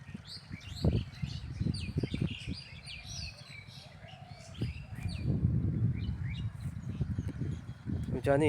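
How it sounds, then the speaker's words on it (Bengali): Birds chirp and tweet in open Bengal countryside in winter: many small, bright calls from several birds, near and far, over a low rumble with a voice underneath. "সাউন্ড পাচ্ছেন তো অবশ্যই পাখিগুলো"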